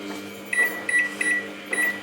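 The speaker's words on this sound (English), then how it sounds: "Put it in the microwave for something like" A kitchen microwave oven running while food heats, with a quiet steady hum broken by a series of short high electronic chirps at regular intervals, close and faint, with no talking.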